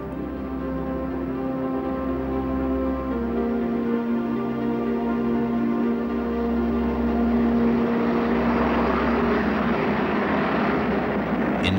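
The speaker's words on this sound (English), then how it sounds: "the 747's crew decided to attempt a takeoff." A Boeing 747 jetliner takes off from a runway, its engines a steady, loud, tonal roar that swells toward the end.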